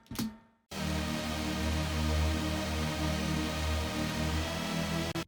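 After a short low swell, a sustained synth lead enters over a heavy bass, holding steady harmonic tones for several seconds.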